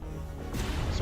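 A missile explosion in Missile Command Delta lands as a sudden heavy crash partway through, after a low rumbling lead-in, then leaves a brief hissing tail.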